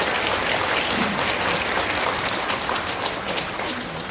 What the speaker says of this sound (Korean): 이 동천에서 오신 세 분 시도위원님 위해서 격려의 박수 한번 부탁드리겠습니다